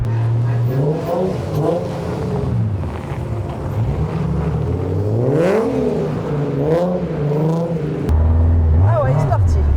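A 4x4 car revs hard while drifting on ice in Quebec, the engine note rising and falling in long sweeps, loud and close, with people talking over it throughout.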